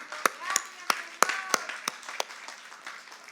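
Church congregation at a discipleship class clapping for the Lord, a small group with sharp, spaced claps that grow sparser and fade, with faint voices underneath.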